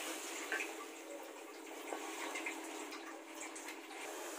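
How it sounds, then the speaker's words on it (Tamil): Water is poured into a pan of fish curry (meen kulambu) that has just been mixed with curry masala powder. It makes a soft, continuous trickle and splash, faint and close, with no talk. "கொஞ்சம் தண்ணி ஊற்றிக்கலாம்."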